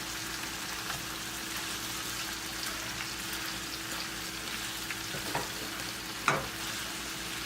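Chicken sausage and broccoli stir fry sizzles in a small, crowded pan with a steady, even crackle close by, broken near the end by a couple of sharp utensil taps.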